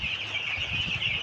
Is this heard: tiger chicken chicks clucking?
yes